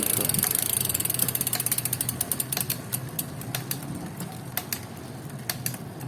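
A Weapon Attack bicycle hub, recovered after six months left outside in rain and flooding, clicks as its ratchet spins: a rapid, even buzz of pawl clicks that slows into sparser, louder ticks as the wheel coasts down, with no talk.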